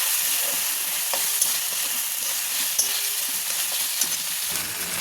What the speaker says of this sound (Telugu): కొంచెం సోయా సాస్, కొంచెం టమాటో సాస్ వేసుకొని వీటిని బాగా కలుపుకోవాలి.